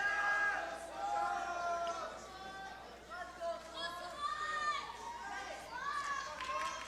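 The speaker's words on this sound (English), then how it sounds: "there are about, I'd say, 25 to 30 people on the other end of the stage just cheering her all around" Supporters at a martial arts cup finals event in Chicago cheer and shout from a distance, a faint mix of excited high-pitched voices and general crowd babble rising and falling throughout.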